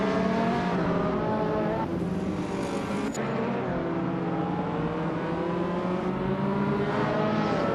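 Engine of a classic 1985 Lamborghini Countach race car in a racing video game, a loud continuous rev with rising and falling gear pitches, changing gears abruptly, and no talk over it.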